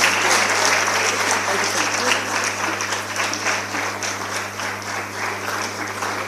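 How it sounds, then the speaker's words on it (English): An audience at a women's building-industry conference claps steadily and loudly for several seconds, a dense wash of hands with a low electrical hum beneath it. "Please clap as they go"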